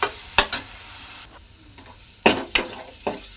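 Masala for chicken rassa roasts in a pan, sizzling softly while a spoon scrapes and stirs in a few sharp strokes, close up, with a brief quieter pause between stirs.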